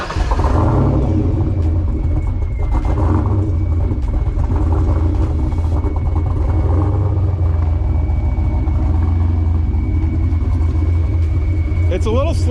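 A turbocharged 800-horsepower four-eye Foxbody Mustang engine fires up and settles into a steady, deep rumbling idle close by, with people talking over it.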